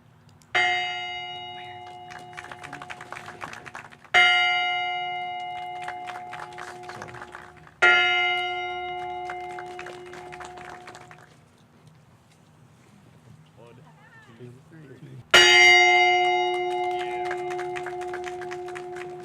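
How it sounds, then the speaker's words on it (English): A ceremonial tribute bell rings four times with long gaps between, each loud metallic strike ringing out and decaying slowly over faint wind and background hum. "I am ringing the bell tonight for our soldiers and airmen in the Minnesota National Guard"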